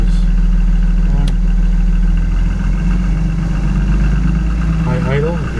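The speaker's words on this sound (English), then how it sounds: "High idle, you can hear it." A 2012-2014 Blue Bird Vision school bus engine runs at high idle, a steady, loud, low diesel drone with a constant hum, and a person speaks over it near the end.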